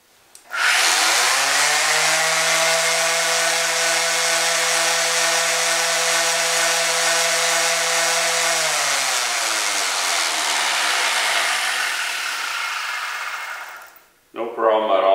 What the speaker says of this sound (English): let's try a 5-inch orbital sander